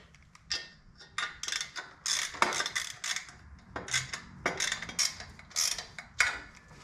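Bolts are snugged one at a time on a Gasbox 2-into-1 exhaust for a Shovelhead motorcycle, giving close, irregular metallic clicks and ratcheting clinks in short bursts over a quiet background.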